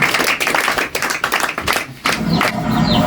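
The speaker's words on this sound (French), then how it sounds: "On peut les applaudir." Theatre audience at a hypnosis stage show breaking into loud, dense applause, steady clapping filling the room with a brief dip before picking back up, close and sustained.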